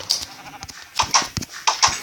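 Sheep in the Minecraft video game bleat in short, closely spaced bursts, several quick cries repeating near and fairly loud with no talk over them.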